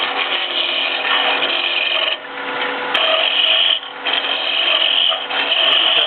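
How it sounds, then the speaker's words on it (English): A chisel cuts a walnut finial spinning on a lathe, making a steady, continuous scraping rasp that briefly dips a few times before resuming. The sound stays close and loud, with no talking. "You can see that I'm using this part of the chisel."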